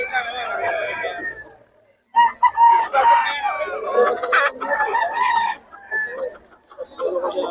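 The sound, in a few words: gamecock roosters crowing and clucking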